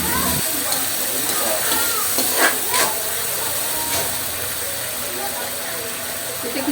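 Chicken sizzles in a pan with a little vinegar and pepper while it is stirred. A steady hiss runs throughout, broken by a few scraping stir strokes.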